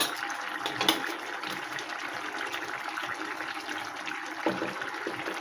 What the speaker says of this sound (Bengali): একটু ফুটতে থাকুক।